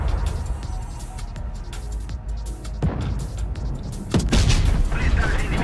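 A single gunshot or cannon shot fired in a video game, a sharp booming burst rising out of busy, rumbling game noise, followed by a louder stretch of combat sound.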